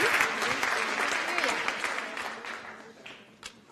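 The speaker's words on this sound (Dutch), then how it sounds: "onder u luid applaus" Audience applause fills a Dutch talk-show studio as a journalist is welcomed to the table, dense clapping that gradually tapers off with scattered voices beneath it.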